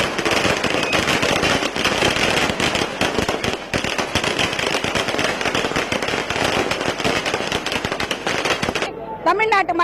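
Firecrackers burst in a dense, loud, nonstop crackling barrage as AIDMK party workers celebrate an election victory outside their headquarters in Chennai, with a voice heard briefly as the bursts stop.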